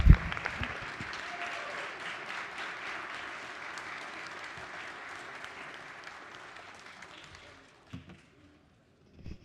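Applause rings through the House of Delegates chamber, a full room clapping steadily for several seconds before fading away, followed by a few isolated knocks and near silence.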